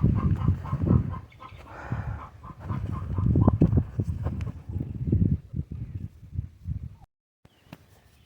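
Backyard chickens and chicks in a yard, with steady clucking and soft cheeping from several birds nearby for about seven seconds before it drops to near silence, faint calls returning at the end.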